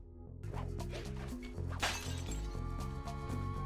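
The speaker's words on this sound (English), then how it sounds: "Something about that glass shattering sound just activates a singular neuron in my brain" A glass bottle shatters in a video game, a bright crash burst rising from a steady bed of game music and lasting briefly before fading back under the soundtrack.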